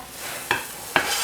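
Ground chicken frying in a little oil, stirred in a pan with two distinct scraping stirs against a steady close sizzle; no one speaks.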